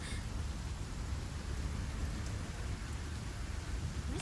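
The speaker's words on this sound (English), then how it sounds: "Why is it raining so loud?" Loud, steady rain pours continuously in the video game NIKKE, a dense hiss with no voices over it.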